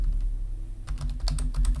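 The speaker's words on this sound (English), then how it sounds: "Now here you have to make sure you're typing it correctly." Computer keyboard typing while entering a formula in Power BI developer mode, a quick run of close, crisp key clicks after a brief pause, alone without talk.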